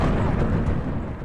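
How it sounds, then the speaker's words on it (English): A massive missile-strike explosion on a Russian warship in a Crimean port, heard as a sustained, loud, dense low rumble and roar that fills the whole short stretch without letup. "A massive explosion with potentially huge implications"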